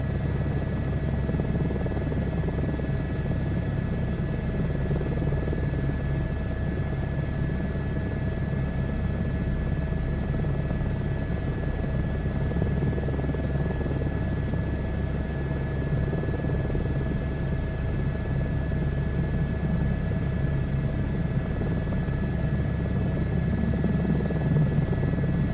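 Helicopter engine and rotor drone in a flight simulator game, flying over Wales and West England, a loud, steady, continuous hum with no change in pitch and no speech.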